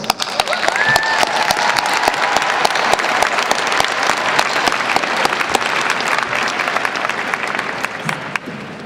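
Loud, sustained applause from a large audience at a 2023 graduate hooding ceremony, honoring MISM graduates; a continuous roar of clapping hands with an occasional whoop, steady throughout.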